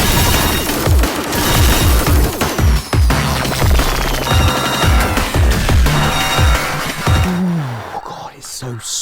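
Fast-paced gameplay from Velocity 2X, with rapid bursts of shooting and warping effects layered over a driving electronic soundtrack, dense and loud throughout before briefly dropping near the end.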